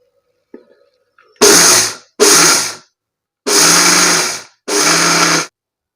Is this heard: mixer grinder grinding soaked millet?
yes